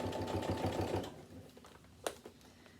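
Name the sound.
sewing machine stitching along piping on a Renaissance costume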